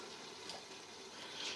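Water pours steadily into a pot of browned beef karahi gosht being cooked in a pressure cooker, a continuous close splashing wash with no talk.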